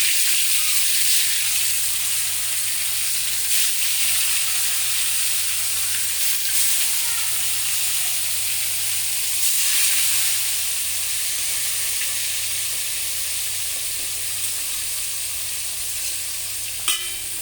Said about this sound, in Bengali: এবার একে একে মাছগুলো ছেড়ে দেব।